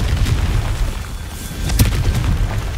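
A Confringo fire spell goes off in a Harry Potter video game, a dense booming blast with a sharp burst near the middle over a constant low rumble, loud and close.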